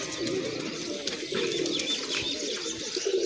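Pigeons coo softly and continuously from a rooftop loft, their calls close and overlapping against a light background of outdoor noise.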